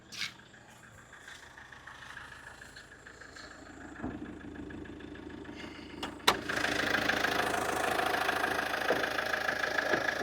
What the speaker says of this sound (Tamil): இந்த வண்டியோட இன்ஜினை நம்ம பட்டனை கிளிக் பண்ணி ஸ்டார்ட் பண்ணிட்டோம்